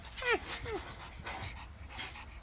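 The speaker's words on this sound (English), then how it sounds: "Got a dog up here on top of the thing." A female dog perched up on top of something pants and whimpers in quick, close breaths, with a few short whiny yips over a low background.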